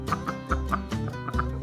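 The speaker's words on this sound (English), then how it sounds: "Gonna give some of the bits to the chickens" Chickens cluck close by in a quick, repeated series of short clucks, several birds calling over each other in a steady, busy rhythm.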